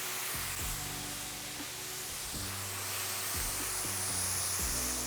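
Steak bites sizzle steadily in a hot stovetop pan turned down to medium-low, a constant broad hiss with a low steady hum underneath.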